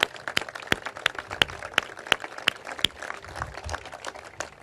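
Scattered claps ring out from an outdoor crowd honoring hard-hatted construction workers at a Wharf excavation milestone event. The claps are sharp, separate and fairly quiet, never building into full applause.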